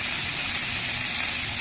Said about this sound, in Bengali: তার আগে একটু ভেজে নেব যে তেলটা বেঁচেছে।